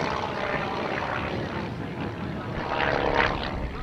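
An aerobatic airplane powered by a 540-cubic-inch Lycoming IO-540 flat-six engine flies at an airshow, a continuous distant propeller drone that swells slightly louder near the end.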